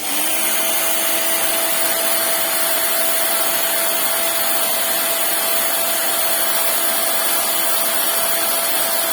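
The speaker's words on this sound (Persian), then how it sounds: "سشوار کردن گیرم." A hot hair dryer blows steadily on a handmade pearl hair clip, a loud continuous whooshing roar with a faint motor whine, unbroken for about nine seconds and heard alone.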